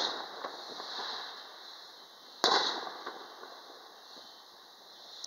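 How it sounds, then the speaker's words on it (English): Fourth of July fireworks crackle and pop in the distance outside a house, with one sharper, louder bang partway through over a steady background hiss. "in the front of my house, there's a lot of fireworks."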